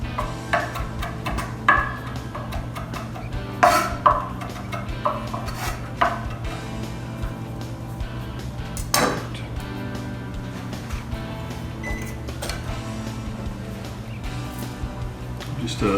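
A knife chops food on a cutting board in a kitchen, with irregular sharp taps and clatters over a steady low hum and no talking.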